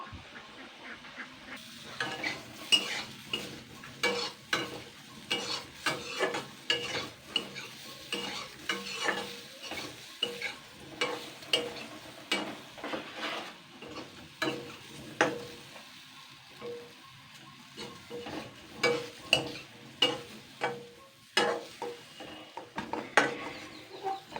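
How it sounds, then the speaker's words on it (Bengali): Chana dal fritters frying in oil in a pan: a soft bubbling sizzle broken by frequent sharp scrapes and clinks from stirring, close and irregular throughout, with no voices. "এবার আমি আর যেগুলো আছে সেগুলো আমি একইভাবে ভেজে নেব।"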